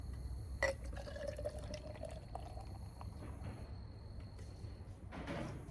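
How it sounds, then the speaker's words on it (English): Miller beer poured from a can into a glass, a steady close liquid splash and fill running for several seconds with a faint hiss, no talking. "All right, so let's get this poured."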